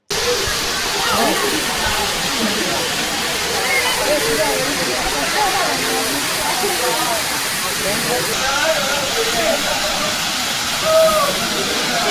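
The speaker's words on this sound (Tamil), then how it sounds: "நூற்றுக்கணக்கான டூரிஸ்டுகள் ஆணைவாரி அருவிக்கு படையெடுத்து வருகின்றனர்" Anaivari waterfall crowded with bathing tourists, a steady broadband rush of falling water running throughout, with voices and crowd chatter mixed faintly into the roar.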